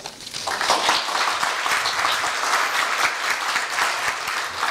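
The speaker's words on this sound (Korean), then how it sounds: "항상 퇴임사가 짧으면 박수 소리가 가장 커지는 것 같습니다" A Korea University staff retirement ceremony audience applauds loudly after a short retirement speech, a full, sustained roar of many hands clapping that stays even throughout.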